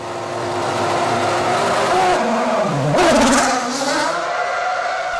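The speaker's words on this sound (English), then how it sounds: "Now the Toro Rosso storms past." Toro Rosso Formula 1 car at a 2006 Grand Prix storming past, its loud high-pitched engine rising and sweeping downward in pitch as it passes close by, with engine noise sustained throughout.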